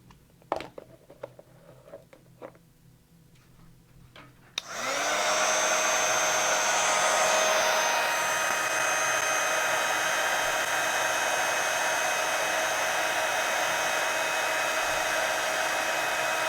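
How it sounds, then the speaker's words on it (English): A heat tool for melting embossing powder switches on after a few seconds of small clicks and handling sounds, then blows a loud, steady, close whirring roar that runs without pause to the end. "And then I'm going to melt that embossing powder."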